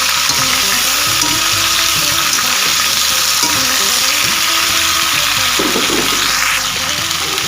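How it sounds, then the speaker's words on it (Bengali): Ridge gourd and potato are stirred in a hot frying pan. A loud, continuous sizzle runs close up throughout, with rhythmic scraping from the stirring. "একটু নেড়ে চেড়ে নেব"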